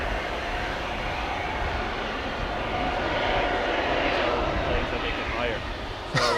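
A Vueling airliner, 18 years old, departs Amsterdam Schiphol Airport with a steady broadband engine roar under ongoing talk.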